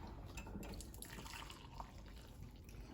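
Hot cocoa poured from a jug into a container, a steady close liquid stream and dribble heard alone without any talk.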